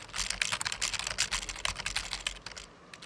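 Fingers tapping out a long string of characters on a computer keyboard, a rapid, continuous patter of close key clicks with no pause until it thins near the end.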